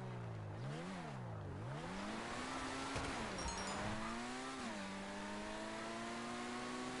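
Racing video game car spinning out, its engine whining and sweeping up and down in pitch with a faint tire squeal, loud and continuous with no talk.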